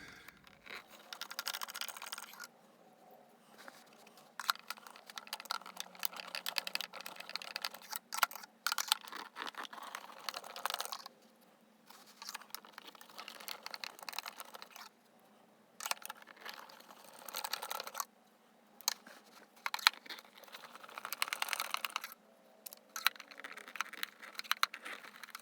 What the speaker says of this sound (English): Need to get inside there and get our first screw out.